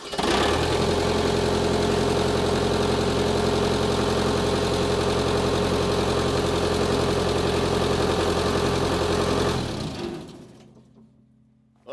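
The engine of a Power Trac 1850 runs loud and steady close by, a deep, even rumble held for about ten seconds. Then it winds down and cuts off, leaving near silence with no voices.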